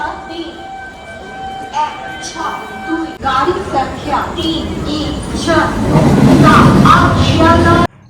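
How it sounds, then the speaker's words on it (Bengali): A train pulls into a station, its rumble building to a loud, close roar over the last seconds, with a person talking briefly and voices and station noise in the background. "ট্রেন ঢুকে যাচ্ছে"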